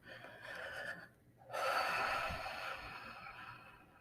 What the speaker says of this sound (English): Let's take some deep breaths there.